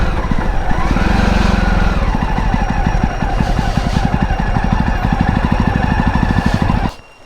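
A Royal Enfield Himalayan motorcycle rides along with a loud, steady engine drone and pulsing exhaust that holds throughout before cutting off abruptly near the end.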